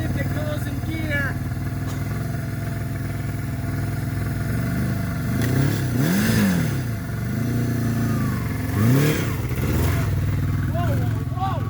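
A barn-find Kawasaki KZ550 LTD motorcycle engine runs steadily close by, with a couple of revving swells as it is shifted into gear and people talking over it.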